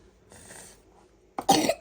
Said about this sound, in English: Oh, your cough.